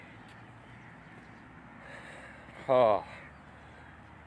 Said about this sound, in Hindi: परिंदे बोल रहे हैं अपनी अपनी बोलियाँ